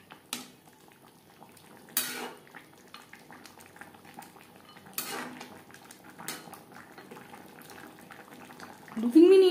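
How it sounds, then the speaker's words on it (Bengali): Metal spoon scraping and clanking in a pan as fried lentil dumplings are mixed into gravy, with a few sharp knocks spaced apart over a low simmering bubble. "গ্রেভির সাথে বড়ি বেশ ভালো করে মিক্সড করে দেব।"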